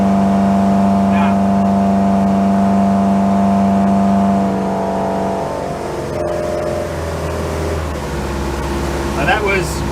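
A 34 ft Hartley timber boat's engine drones steadily near full throttle, loud and constant, with its tone shifting midway as the revs change, while wind and water noise sit underneath.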